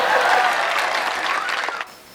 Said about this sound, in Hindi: जोरदार ताली बजा सकते हैं इसी बात में